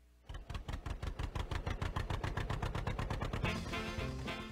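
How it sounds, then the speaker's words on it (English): A John Deere Model B tractor engine cranks and catches, settling into a loud, regular chain of heavy putting beats close by before the sound smooths out toward the end. "Let's get this tractor started."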